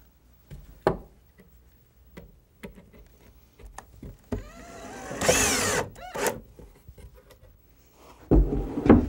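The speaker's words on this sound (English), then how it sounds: "we're going to go ahead and screw that together" A power drill drives screws to join the bottom and skis of a wooden ice fishing hand sled, giving several short whirring bursts, one longer run, and scattered clicks and knocks between them, close by.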